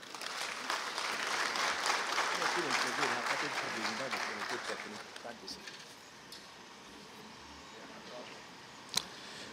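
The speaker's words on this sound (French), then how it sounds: "Merci de leur accompagner par vos applaudissements." Audience applause at a French-language government conference rolls for several seconds, then fades out into quiet room noise with a sharp knock near the end.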